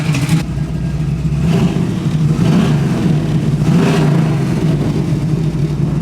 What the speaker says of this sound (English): this is our 540 Cruiser engine as it comes in the catalog